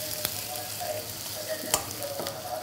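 Onion sautéing in a pan for spicy eggplant masala: a soft, steady sizzle broken by a few sharp clicks of a spatula scraping and stirring, close and moderately quiet, with no talking.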